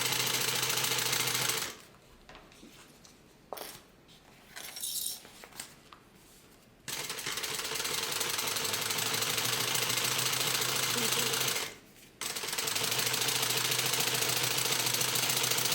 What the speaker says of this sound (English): we're going to top stitch on the front piece